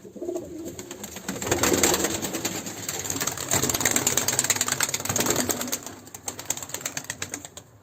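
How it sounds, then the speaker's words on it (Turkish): Pigeons in a breeding loft coo and flutter nearby as a parent bird regurgitates food into its own chick's mouth, a continuous soft murmur of bird sounds throughout. "Kuşumuz şu anda yavruya kusuyor. Kendi yavrusu."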